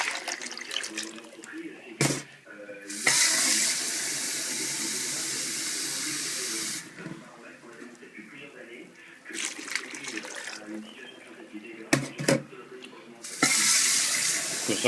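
Water from a tap gushing in bursts over snails being washed, loud hissing pours starting and stopping several times, with kitchen handling noise in the gaps.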